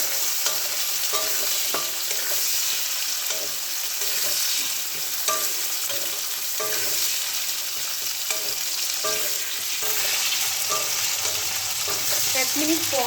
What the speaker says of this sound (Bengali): তারপরে আমি সিম আর কুমড়োটা একসাথে দিয়ে দেবো। এটা দিয়ে আবারও ভালো করে একটু নেড়ে নেব